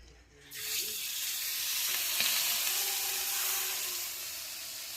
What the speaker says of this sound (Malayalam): നമ്മളിന്ന് ചെമ്മീൻ ഒന്നോടെ വറക്കുക